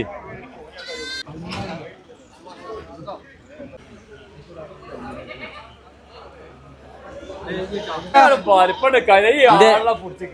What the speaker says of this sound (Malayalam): ഇരുപത്തഞ്ച് ആടുണ്ടായി. ഇഷ്ടം പോലെ ആട്.